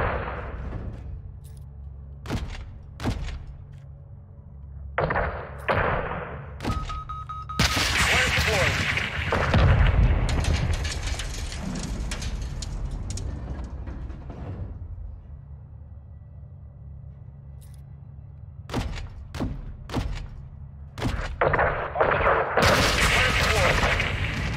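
Gunfire and heavy explosions rattle through a Call of Duty Modern Warfare 2 battle: sharp isolated shots, then a long loud stretch of sustained firing and booms, breaking back into scattered bursts near the end.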